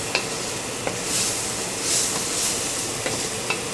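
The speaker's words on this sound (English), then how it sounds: "throw that in, and now we're going to saute that" Chicken tikka masala ingredients being stirred and sautéed in a pan, giving a steady soft sizzle with a few light scraping clicks from the utensil, close and moderately quiet, with no voices.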